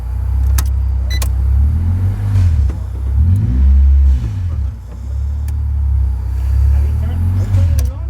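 A Honda B20 VTEC engine with a freshly plugged-in ECU cranks and turns over in a garage, giving a loud, continuous low rumble that swells and dips in surges, with a few sharp clicks and people talking nearby.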